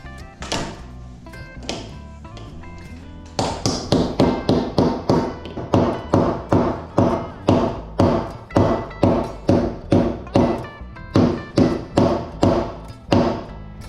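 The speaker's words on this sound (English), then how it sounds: "Always hammer from the bend outwards to the nail point." A hammer taps nails to lock binding wire in place with a wire binding tool, giving a long run of steady, close metallic knocks after a few slower opening strikes.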